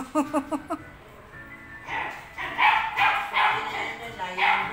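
A few quick, sharp dog barks at the start, then excited voices chatter over faint yips and whimpers in a pet shop.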